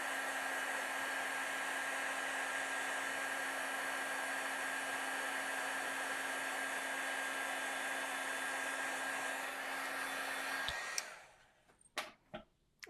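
A heat tool blows steadily with a loud whooshing hum as it melts embossing powder on a greeting card, running unchanged for about eleven seconds before switching off, followed by a few small clicks and taps.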